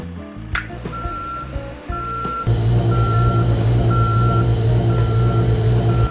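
A cartoon drill truck raises its drill in a kids' game: a hydraulic whir swells into a loud steady hum, with a reversing beep repeating at a regular pace over it and a bright chime near the start.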